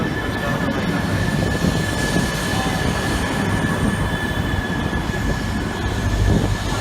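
A Tohoku Shinkansen train arrives at Omiya Station platform, rumbling steadily and loudly with a constant high whine and dense mechanical noise, no voices.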